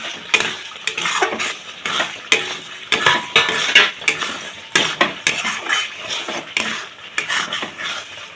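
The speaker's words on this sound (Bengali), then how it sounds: "এবার এখানে আলুটা ছেড়ে দেব" Potatoes being stirred into cooked spice paste in a pan, repeated scraping strokes of a spoon against metal in an uneven rhythm over a low sizzle.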